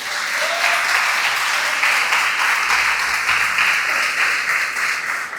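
A church congregation applauds steadily and loudly, dense clapping sustained throughout with faint cheering voices mixed in.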